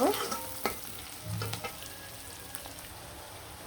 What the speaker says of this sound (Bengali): দিয়ে ভালো করে মশলাটা কষিয়ে নিলাম